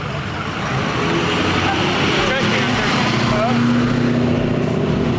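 A lowered car called the Bird Turd drives a lap at a cruise night in Festus, with a steady engine rumble and road noise throughout and people talking over it.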